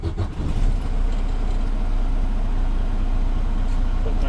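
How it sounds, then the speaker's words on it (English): A truck engine turns over at the start of a Class 1 pre-trip brake check and settles into a steady, loud low idle that rumbles on continuously with no talking over it. "I'm going to start my engine here."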